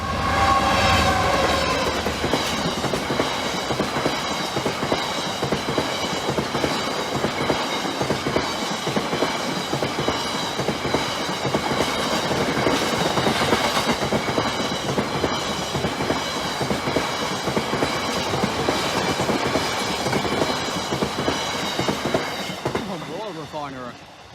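A train rolls past a level crossing at close range for the whole stretch, wheels clattering steadily over the rails with a loud continuous rumble and screechy metallic overtones.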